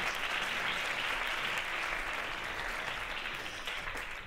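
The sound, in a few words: audience applause at comedy show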